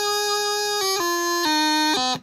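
Practice chanter playing a run of eighth notes from a tune, a thin reedy tone stepping down through several clear pitch changes, close and steady with no talking.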